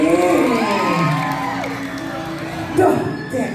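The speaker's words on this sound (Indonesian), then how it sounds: "Kita tepuk tangan luar biasa Riki" A crowd at a traditional Balinese drama gong performance cheering and whooping, loud and sustained with shouts rising over the noise, and a voice talking beneath the commotion.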